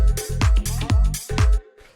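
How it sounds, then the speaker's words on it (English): Dry tech house synth stabs with no effects, about four short punchy hits in a quick rhythm over a deep low thump, played alone before a brief trailing gap. "it's not really like a pad as much as it is like a really quick stab"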